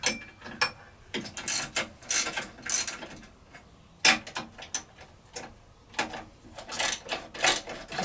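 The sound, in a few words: ratchet loosening treadmill motor mounting bolts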